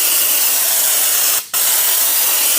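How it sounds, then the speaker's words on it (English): Raptor liner bed coating sprays from a spray gun in a long, loud, continuous hiss, broken once by a brief pause before the spray resumes, close by and with no talk. "You can spray this as heavy as you would like"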